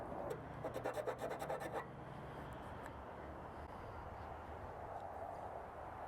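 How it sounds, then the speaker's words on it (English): A hand file rasps back and forth against an aluminum MOLLE panel to lengthen a bolt hole for a Jeep Gladiator install, about a dozen quick close strokes at the start, then a steady low background hum. "take your file and make a little bit longer hole in there if you want to utilize that bolt"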